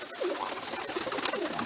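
Low, soft cooing from pigeons waiting to enter their loft, a couple of gentle warbling calls set against constant high-pitched background noise, faint and fairly distant.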